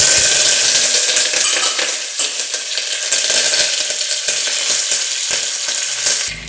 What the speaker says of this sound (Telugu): పెసరపప్పు కన్నా ముందు మన దగ్గర ఉన్న కరివేపాకును అందులో వేద్దాం